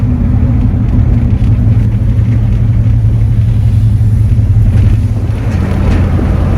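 A 1974 Cadillac Superior Hearse on a commercial chassis rolls over a rough road, giving a loud, steady low rumble of engine and road noise heard from inside the cabin.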